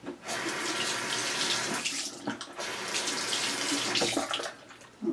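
A tap runs steadily into a sink to wet a makeup sponge, a close, continuous splashing stream with a couple of brief dips in flow.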